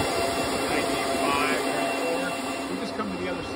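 A Bitmain L7 crypto mining rig's cooling fans roar steadily at close range, about three feet away, as a dense, unbroken broadband whoosh with a faint whine on top.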